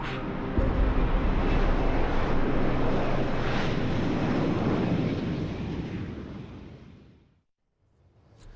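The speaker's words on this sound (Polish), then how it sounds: "tutaj widzę, że helikopter odlatuje" A helicopter in the video game Deus Ex: Human Revolution flies away, a loud broad whooshing roar that holds steady, then fades out to near silence.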